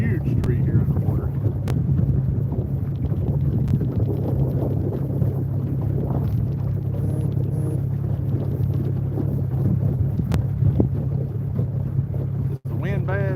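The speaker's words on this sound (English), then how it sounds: "Is the wind bad through the live?" Wind buffets a microphone on a small fishing boat moving slowly across open water, a constant low rumble with motor drone beneath it and brief voices.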